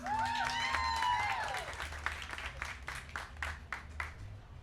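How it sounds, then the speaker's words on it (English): Audience applause at an outdoor street celebration marking the anniversary of the victory at Puebla, clapping and cheering swelling then thinning over a few seconds, with a whistle-like tone early and a low background hum. "Please give a big round of applause for Teresa Salas!"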